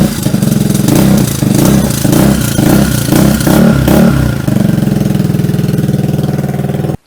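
A 125cc scooter fitted with an aftermarket AliExpress exhaust idles close to the microphone, a steady loud putter with a rhythmic pulsing throb through the first seconds before settling into an even drone that cuts off abruptly.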